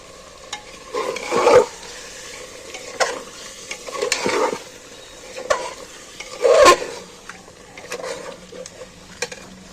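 Fried potatoes and chicken are tipped into sizzling fennel spice paste in a pan, making heavy stirring and scraping bursts over a continuous sizzle, close and loud in irregular surges.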